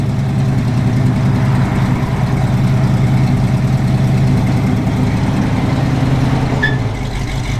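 A 1974 Pontiac Firebird Formula with a 455 engine and Flowmaster dual exhaust idles steadily and loudly with a deep, even rumble, nearby and without talk, its pitch dipping slightly near the end.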